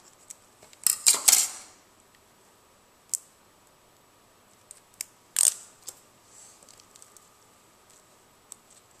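Scissors cut through a piece of stiff hook-side Velcro for a flash gel holder: a close, crunchy cluster of snips, then a few scattered light clicks against quiet room tone, with no talking.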